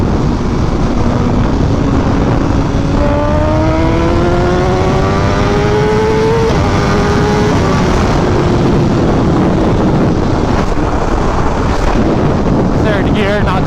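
A drag-setup BMW S1000RR sport bike pulls hard in a rising engine whine that climbs steadily through the rev range, with heavy wind roar buffeting the microphone throughout the run.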